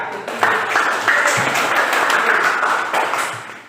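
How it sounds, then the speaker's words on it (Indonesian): A classroom group clapping for group 3, steady dense applause from many hands, close and loud, lasting a few seconds before tapering off. "kita kasih aplaus pada kelompok 3"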